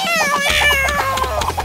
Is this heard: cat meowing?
yes